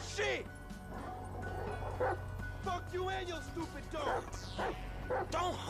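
Chop the dog in Grand Theft Auto V yips and whimpers in short bursts, mixed with game noise and a steady low hum, while someone talks over it.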